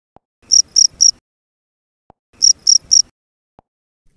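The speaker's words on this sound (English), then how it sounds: "Cricket." A cricket chirps in two clear bursts of three rapid, high, piercing pulses each, loud and close against near silence, with faint ticks between the bursts.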